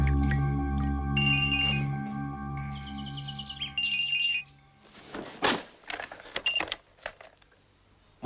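A telephone in the 1986 Swedish film Jönssonligan Dyker Upp Igen rings in two short bright electronic bursts over a low humming background, followed by scattered clattering noises.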